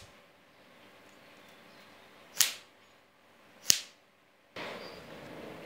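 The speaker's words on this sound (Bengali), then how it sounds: "পটকা দিয়ে এভাবে শব্দ করতে হয়।" Two sharp, cracking bangs from a folded paper origami popper snap out about a second apart in a quiet room, each a crisp single pop, before a soft hiss of background noise rises near the end.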